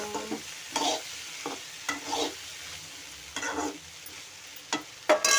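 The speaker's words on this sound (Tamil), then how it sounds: "அடக்காவை கிண்டி விட்டாச்சு வெண்டைக்காய் நல்லா வதங்கட்டும்" Okra being stirred and sautéed in a pan, with separate bursts of spatula scraping and sizzling at irregular intervals over a quiet bubbling background, close and moderately loud.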